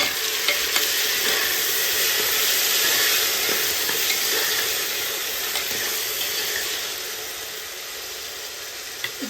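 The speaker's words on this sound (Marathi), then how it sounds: "एक 2 मिनिटं व्यवस्थित प्युरी भाजून घ्यायची आपल्याला" Tomato puree frying with potato in a pan for masale bhat, a continuous bright sizzle that holds steady and fades slightly midway, with faint stirring scrapes and no talk.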